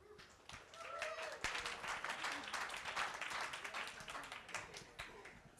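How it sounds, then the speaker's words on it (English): An audience at a drone-policy tech gathering claps together for several seconds, a steady spatter of hands with some voices or murmuring mixed in. "So if you can give them a round of applause."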